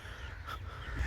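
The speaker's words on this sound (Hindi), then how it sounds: "प्यासे कौवे" Crows cawing over an organic fruit and vegetable farm with strawberry tunnels in Chak Shahzad, Islamabad; a single faint call rises midway over a steady low outdoor rumble, with no talking.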